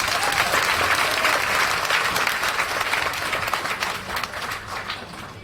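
Loud, dense applause from a large crowd, sustained for several seconds and slowly thinning out toward the end.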